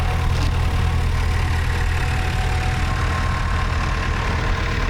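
Vintage Massey Ferguson 35X tractor running at an agricultural show: a steady, close, low diesel chug with an even throb throughout and no talking.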